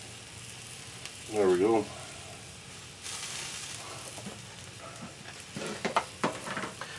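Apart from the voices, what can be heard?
onion and jalapeno frying for smoked chicken tacos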